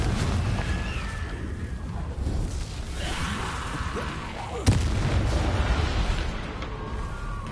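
A Confringo spell blasts in Hogwarts Legacy amid continuous rumbling combat booms, with a sharp impact crack partway through and whooshing effects layered over the low roar.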